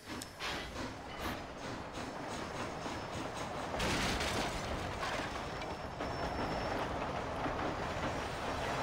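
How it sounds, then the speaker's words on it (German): Train rolling along the tracks in the video game Red Dead Redemption: Undead Nightmare, a steady loud rumble and rattle that holds throughout with no speech. "Ja, wir fahren jetzt alleine Zug, alles klar."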